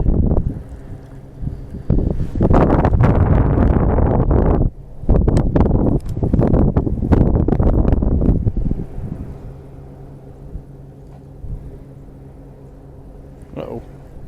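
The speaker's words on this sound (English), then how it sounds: "My main challenge today is that wind." Wind blowing over a lake, heavy gusty buffeting against the microphone for several seconds that then eases off, with a person talking faintly underneath.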